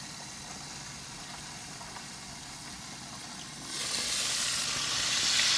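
Beer-battered chicken frying in a pan gives a low steady hiss that jumps to a louder, bright sizzle partway through and keeps building, with no talking.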